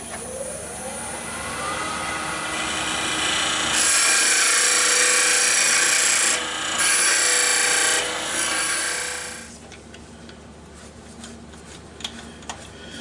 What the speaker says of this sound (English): Now with the skew we'll get a bit of a dovetail put into that.